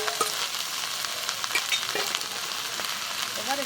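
Pumpkin flowers frying with beans and garlic in a pan, a steady close sizzle with light stirring clatter throughout, no talking.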